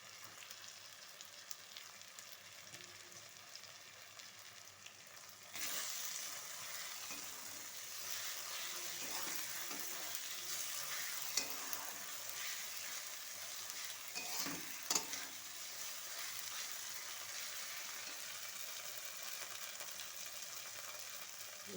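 Garlic and ginger paste frying in oil for ghugni in a food shop kitchen, a soft steady sizzle that jumps louder and hisses more brightly when the paste hits the pan, then holds evenly with light stirring.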